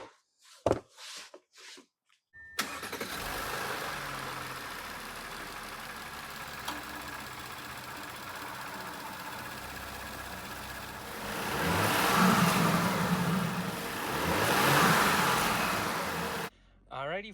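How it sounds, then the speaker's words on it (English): An Audi 3.0 engine, just fitted with a new oil separator, cranks and catches, then settles into a steady idle with a low rumble that swells a couple of times, nearby and fairly loud. "it's definitely idling significantly smoother"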